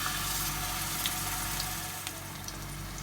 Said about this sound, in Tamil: நம்ம ஆயில் இப்போ சூடாக இருக்குது, இதில் பர்கரை ஷாலோ ஃப்ரை பண்ணி எடுத்துடலாம்